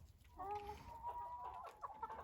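Chickens and two roosters in a backyard hobby coop with Ayam Cemani and Lohmann Sandy hens give a few close clucks and short drawn-out calls, with other birds murmuring faintly behind.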